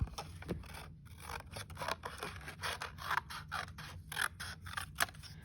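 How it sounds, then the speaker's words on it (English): Scissors snip paper in a run of short, close cuts along a drawn line, each crisp crunch separated by small pauses, with no one talking. "see how I'm just carefully cutting on the big black line"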